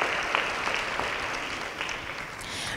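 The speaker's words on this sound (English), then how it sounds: "Please provide a round of applause for our high school specialty award winners." Applause at a science and engineering awards ceremony for high school specialty award winners, a soft, steady spread of clapping from a room full of people, fairly distant and even throughout.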